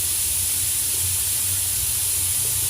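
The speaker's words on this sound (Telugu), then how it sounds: "ఇప్పుడు ఆలు వేస్తున్నాం బంగారు దుప్పలు ముక్కలు" Potato pieces dropped into a hot pan for mutton curry give a steady, close, loud hiss and sizzle that holds evenly throughout, with no voices.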